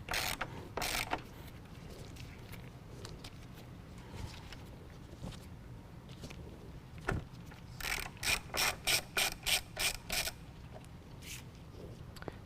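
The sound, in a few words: ratchet removing two 10mm headlight bolts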